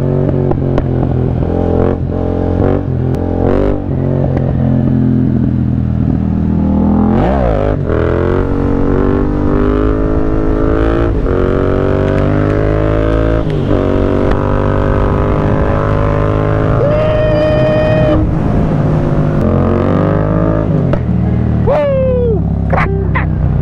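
Loud, close motorcycle engine revving and straining during a wheelie, with rising and falling engine pitch over a constant rumble and a voice speaking over it.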